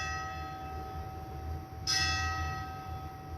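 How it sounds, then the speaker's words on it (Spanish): A church bell rings out with a long, shimmering sustained tone, then is struck again partway through, its fresh strike briefly brightening the resonance. "Suenan las campanas del ocaso"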